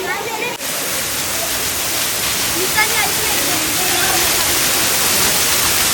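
A waterfall in hill country near the Kondhana caves gives off a continuous, loud roar that stays constant throughout, with voices speaking over it.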